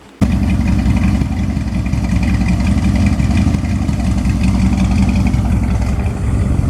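A car engine starts up and runs steadily on a drive around the block, loud and close inside the cabin, with a constant rumble and mild swells, no voices.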